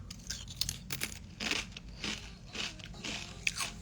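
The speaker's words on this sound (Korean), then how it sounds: "과자 씹는 ASMR 같아서 졸려요?" A crunchy snack is bitten and chewed close to the microphone, giving repeated crisp crunches at an irregular rhythm, with no voices.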